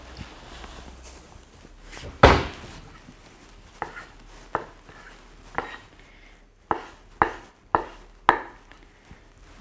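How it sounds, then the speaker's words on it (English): A knife chops avocado into small pieces on a board, with a series of close, sharp knocks at uneven intervals, one hard thud early on and quicker chops toward the end. "Chop that into small pieces."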